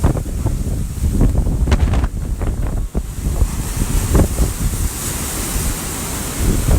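Hurricane Dorian's storm surge crashes onto King and Prince Beach at St. Simons, a constant roar of breaking surf under heavy wind buffeting the microphone, loud and close throughout.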